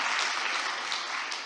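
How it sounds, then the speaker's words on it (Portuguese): Congregation clapping together in a church service, a steady dense crowd applause that fills the space evenly and loudly throughout. "uma salva de palmas ao Senhor"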